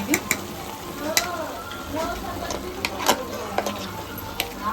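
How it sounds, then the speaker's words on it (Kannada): Ground masala fries in a pan for chicken sambar, a soft sizzle under repeated sharp spoon taps and scrapes at an uneven rhythm, fairly quiet and close. "ಇವಾಗ ಇದು ಫ್ರೈ ಆಗ್ತಿದೆ"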